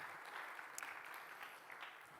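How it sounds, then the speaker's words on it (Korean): A church congregation claps in thanks to God during the final Sunday worship service of the year, a soft, distant, steady patter of many hands. "우리 한 해 동안 우리를 지키시고 보호하시고 인도하신 우리 하나님께 감사의 박수 올려드리십시다."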